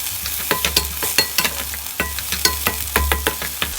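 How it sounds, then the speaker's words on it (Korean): Fish cake and crab sticks bubble and simmer in a pan of liquid, with close, crackling pops and soft stirring scrapes in an irregular rhythm, no voices. "어묵과 막대맛살 끓고 있는 상태에서 양념 들어갑니다"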